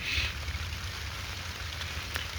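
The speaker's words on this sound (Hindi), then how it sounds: "अभी भी बूंदाबांदी हो रही है" Light rain drizzles steadily on a farm field planted with bitter gourd on mulch, a soft continuous hiss of drops heard close throughout, with no talking.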